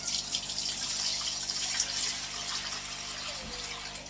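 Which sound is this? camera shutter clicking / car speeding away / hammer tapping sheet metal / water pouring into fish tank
water pouring into fish tank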